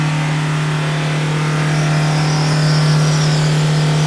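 A car engine held at full throttle around 4,500 RPM during a smoke check in a repair shop, a steady loud sustained drone with a strong low hum throughout, no voices.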